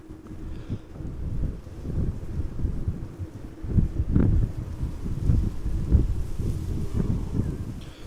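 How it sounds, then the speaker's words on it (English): Wind buffeting an outdoor camera microphone at Amsterdam Schiphol Airport, a continuous low rumbling roar with gusty surges and thumps that swell and fade throughout, no voices present. "Wind is picking up a little bit."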